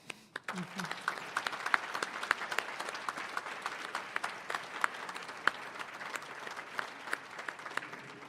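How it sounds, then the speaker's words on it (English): Applause at an employee recognition awards ceremony, a fairly soft, continuous patter of many clapping hands with distinct individual claps popping out, some speech faintly mixed in near the start. "you deserve a round of applause"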